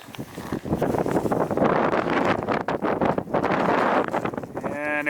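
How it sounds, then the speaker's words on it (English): Strong wind roars across an outdoor sled dog yard at night, buffeting the microphone in a loud, continuous rush with gusting swells, and a voice talks beneath it. "It is crazy windy."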